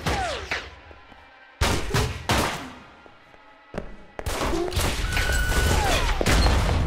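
Sharp, loud gunshots ring out in Alpha Protocol during a museum shootout in Rome, several separated single blasts with pauses between them and faint game ambience underneath.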